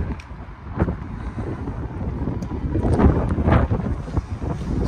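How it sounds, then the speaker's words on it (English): Gusty wind buffets the microphone with low rumbling bursts at Sydenham Metro Station in Sydney, steady throughout and swelling louder toward the middle, with no voices. "Still a bit windy as you can see in here"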